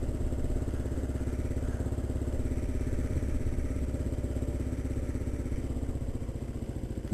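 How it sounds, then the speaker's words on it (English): A Kawasaki motorcycle engine runs steadily at a low, even idle after being started, a continuous throbbing putter heard close and moderately quiet, with no talk. "I start the bike up."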